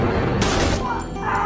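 Gunfire in a film scene in which a woman shoots a sheriff: a brief, loud burst of shots over a rumbling soundtrack, with a voice talking over it.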